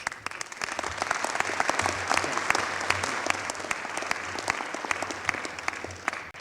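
Steady, sustained applause from an audience at a public meeting on the prescription opioid and heroin epidemic, many hands clapping together in a dense, even wash that holds throughout.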